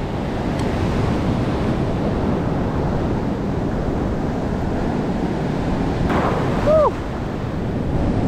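Steady roar of wind and breaking surf at a Delaware beach, heard while standing in the water surf fishing; a continuous loud wash with no pauses, and a short whistling tone near the end.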